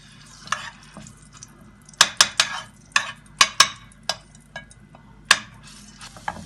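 Garlic dropped into melted ghee in a pan, sharp scraping and metallic clacks of a spoon stirring against the pan in an irregular rhythm over a soft sizzle, no talking.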